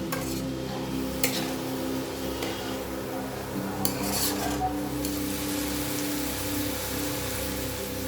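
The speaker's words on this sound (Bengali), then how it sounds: "ওদিকে যতক্ষণ পেঁয়াজ ভাজা হচ্ছে" Onions fry in a pan for a Bengali chicken curry, a soft continuous sizzle under a low steady hum, with occasional utensil clinks and stirring scrapes near the pan.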